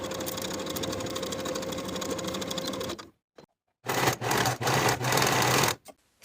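A sewing machine stitches the side seams of a garment in a steady, continuous whir for about three seconds. It pauses briefly, then runs again in short bursts, close and alone.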